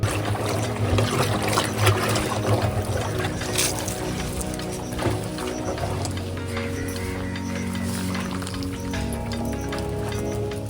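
Organic slurry is stirred in a half-filled tank of water, producing continuous close sloshing and trickling with irregular splashes and churning throughout.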